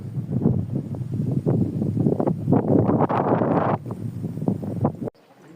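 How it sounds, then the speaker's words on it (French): Strong wind in Lozère, France buffets the microphone in loud, roaring gusts that swell and surge, then cut off abruptly near the end. "il y a un vent de fou."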